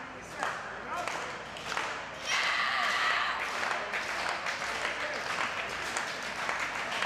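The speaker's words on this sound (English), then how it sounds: "The crowd firmly behind Lufisto, rallying behind the wounded Al Ronan." A wrestling crowd at a women's wrestling match cheers and applauds steadily throughout, with a louder swell of clapping partway through and a commentator talking over the noise.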